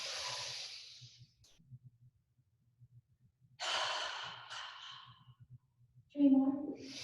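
Yoga breathing for stress relief, with a long, airy exhale, a pause and then a deep inhale, close and soft. Low background movement sounds fill the gaps, and a brief voice comes in near the end.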